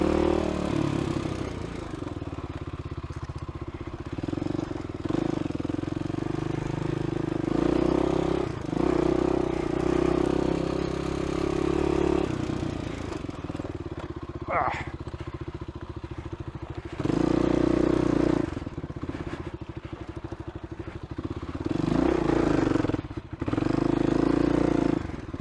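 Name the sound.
motorcycle engine bogging down in second gear over rocks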